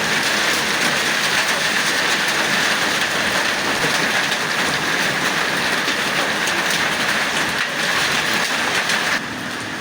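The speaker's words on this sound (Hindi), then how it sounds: "बड़ी ज़बरदस्त बारिश, ये देख लें" Heavy rain pours down at Kalma Chowk in Multan Khurd, a loud, unbroken roar of water hitting surfaces that holds steady throughout and drops slightly near the end.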